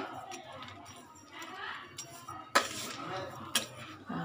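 Dry grated coconut and fried dry fruits being mixed in a bowl for festival rava kajjikayalu, with soft scraping and sharp clinks of a spoon against the bowl, two louder knocks standing out, and a voice talking faintly underneath.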